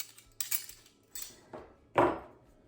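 Old silver cutlery, including a small butter knife, handled up close: a few separate metallic clinks and scrapes in an irregular rhythm, the last one the loudest, with no talking.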